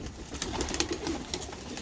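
An old racing pigeon, over five years of age, coos softly in a low, rolling murmur against a faint background hum, with no voices.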